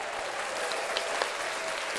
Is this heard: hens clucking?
no